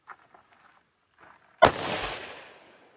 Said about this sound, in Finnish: laukastaan sitten ensimmäinen laukaus